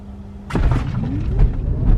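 A Tesla electric car accelerates hard from a near stop: a sudden surge of low road and body rumble, with a faint electric motor whine rising in pitch as speed builds.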